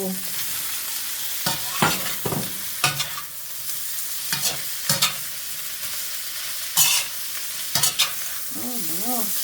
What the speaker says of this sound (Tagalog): Igisa na rin natin yung leftover na barbecue pork chop kahapon para pansahog natin sa adobong sitaw.